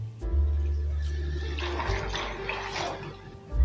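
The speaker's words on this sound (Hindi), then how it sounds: "अब इसके अंदर मैं दूध ऐड करूँगी 2 कप।" Two cups of milk are poured into a pan of soaked mixed lentils, making a close, continuous gushing liquid pour over a deep rumble that lasts a few seconds before tapering off.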